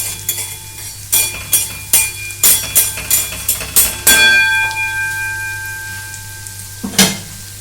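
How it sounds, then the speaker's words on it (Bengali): Grated garlic frying lightly in oil in a pan, with loud rhythmic clanks of a spoon stirring against metal over a steady sizzle, then a ringing tap near the end. "কিন্তু আমি গ্যাসটা জ্বেলে দেবো একটু, রসুনগুলোকে হালকা ফ্রাই করে নেওয়ার জন্যে"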